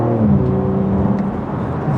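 A BMW G80 M3 Competition xDrive on the move gives off a steady, loud engine hum with a low tonal drone from inside the cabin. There are no pauses.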